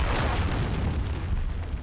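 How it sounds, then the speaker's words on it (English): A grenade explodes in Call of Duty: Modern Warfare II, a loud, dense blast that fills the whole clip with a rumbling roar and no talk over it. "That jump shot grenade."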